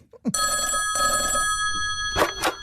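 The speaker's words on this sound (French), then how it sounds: "encore ce maudit téléphone" An old-style telephone bell rings loud and near at home, a sustained metallic trill. Brief voice-like sounds come just before it and short bursts come near the end.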